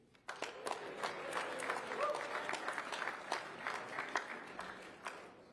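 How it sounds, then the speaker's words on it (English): Rally crowd at a local election campaign event in Solihull claps steadily and fairly quietly for several seconds, a dense, even patter of many hands with no voices over it. "Give yourselves a round of applause."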